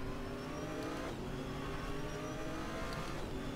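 A race car engine drones steadily through a lap of Sonoma Raceway in the RaceRoom Racing Experience sim, following an SLS GT car, with continuous revving and whirring at a constant, fairly close level and no talk.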